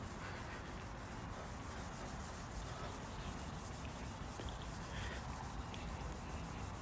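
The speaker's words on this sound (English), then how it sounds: "Essentially what we do is color sanding," Continuous rhythmic rubbing of sandpaper color sanding car paint, close and fairly quiet, with no pauses.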